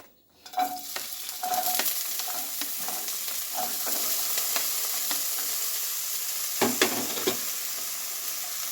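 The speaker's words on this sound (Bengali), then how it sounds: "এবার আমি এর মধ্যে দিয়ে দেবো ছোটো ছোটো টুকরো করে কেটে রাখা আলু" Small cut potato pieces sizzle steadily in a little oil in a kadai, a continuous close frying hiss broken by scraping stirs from a utensil, with no talking.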